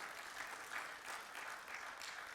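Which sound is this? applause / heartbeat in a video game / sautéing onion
applause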